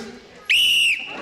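A single sharp, loud whistle blast held steady for about half a second in a gym huddle setting, sounding close and alone.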